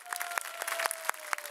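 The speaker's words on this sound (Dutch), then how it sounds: "Dus daar wil ik eigenlijk alvast een applausje voor vragen." An audience applauding the helpers of a children's Lion King musical at a campsite, a short burst of scattered hand claps, fairly close and moderately loud.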